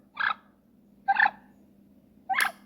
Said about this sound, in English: hen purring.